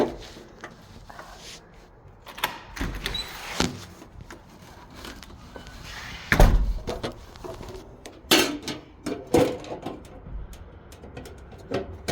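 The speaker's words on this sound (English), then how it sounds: "I'm just gotta figure out how I'm gonna open the door." Someone with full hands fumbles to open a house door, producing scattered knocks, bumps and rubbing thuds at irregular intervals, close and moderately loud, with a sharper clunk in the middle and no talking.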